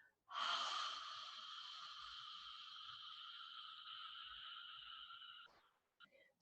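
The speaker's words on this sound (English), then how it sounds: "Open your mouth. Exhale." A long, slow exhale through an open mouth during gentle yoga breathing, one steady breathy rush lasting about five seconds, close and alone, trailing off into quiet.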